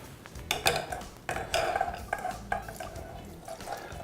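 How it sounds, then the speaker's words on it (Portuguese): Wine marinade from an ossobuco preparation is poured through a metal sieve to separate liquid from solids, with splashing liquid and clinks and scrapes of kitchenware, close and moderately loud, without talk. "eu vou jogar toda a marinada aqui nessa peneira, como eu falei, para separar o líquido do sólido"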